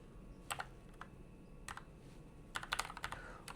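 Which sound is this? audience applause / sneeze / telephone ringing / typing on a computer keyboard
typing on a computer keyboard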